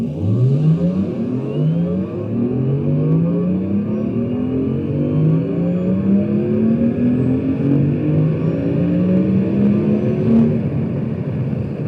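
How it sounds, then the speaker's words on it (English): Porsche electric car accelerating with its artificial engine sound effect, a smooth synthetic hum that rises steadily in pitch in repeated sweeping layers, close and continuous, with no voices. "Porsche have included sound effects. It doesn't sound like a petrol engine, really, and it doesn't sound just like a loud electric motor."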